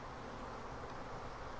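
Honeybees humming inside an opened beehive during a hive split, a soft, dense and continuous buzz at low level.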